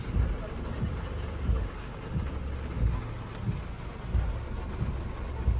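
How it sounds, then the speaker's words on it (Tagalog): Rain falls steadily at a campsite with a dense, even hiss, and low rumbles swell now and then beneath it. Voices can be heard faintly in the background. "It's very raining."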